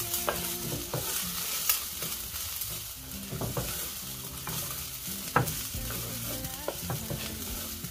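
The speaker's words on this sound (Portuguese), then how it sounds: "refogar uns temperinhos nela também" Seasonings and chopped leftover meat sautéing in a hot pan, a steady close sizzle with frequent clinks and scrapes of a spoon stirring against the pan throughout.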